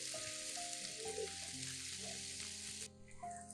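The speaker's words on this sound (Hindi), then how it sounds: "साथ ही शामिल कर दें लहसुन अदरक क्रश। मीडियम आंच पर इसे हल्का सा फ्राई करें।" Crushed garlic and ginger frying gently in cooking oil over medium heat at the start of a potato and capsicum curry, giving a close, continuous hiss of sizzling with a faint background tone.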